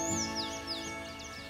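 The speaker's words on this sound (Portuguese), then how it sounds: "O sabiá cantando bonito aqui." A rufous-bellied thrush (sabiá) sings at a campground in Itu, Brazil, with a series of clear, warbling whistled phrases at moderate distance over a steady background hum.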